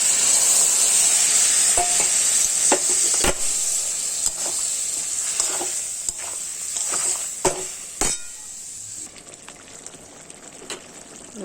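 Cumin and ginger paste sizzling loudly in a hot pan, with a continuous frying hiss broken by repeated scrapes and clinks of a spatula stirring, fading slightly toward the end.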